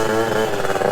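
A modified moped engine runs steadily up close while still warming up, a dense buzzing drone with a fluttery, uneven edge throughout the brief moment.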